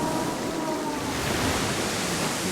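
Steady rushing water of a waterfall in a video game world, a continuous broadband roar holding even and fairly loud throughout, with no voices.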